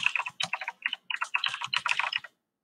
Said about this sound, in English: now I can type all of the parent email addresses